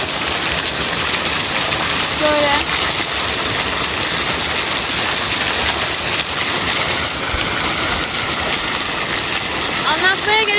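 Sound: waterfall at Kazıköy village

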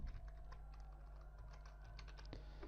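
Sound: typing a password on a computer keyboard

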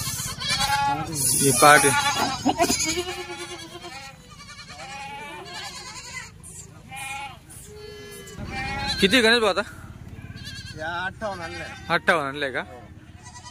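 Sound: Kathewadi sheep and goats bleating

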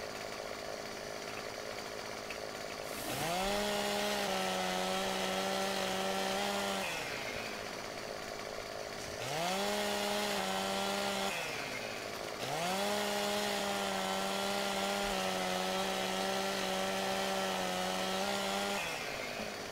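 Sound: chainsaw cutting up a tree

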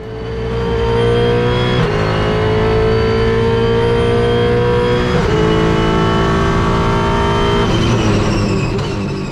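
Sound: V8 Supercar racing engine accelerating on track

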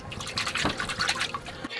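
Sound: water dripping from leaking RV water heater

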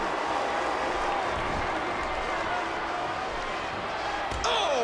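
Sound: wrestling crowd applauding and cheering

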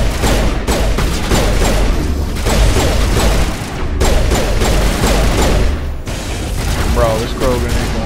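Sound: pistol gunfire against a Krogan in video game Mass Effect

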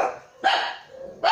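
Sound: dogs barking in the background

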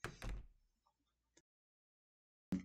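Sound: door gently opening in a video game

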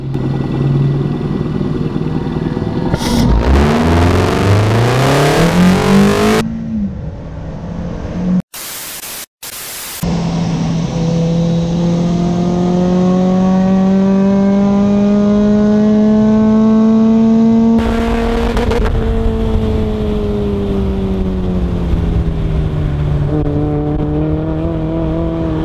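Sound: Mazda Miata with ITB intake revving on track

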